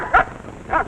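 A dog in a radio advert gives two short, sharp barks or yips, spaced well apart and close to the microphone.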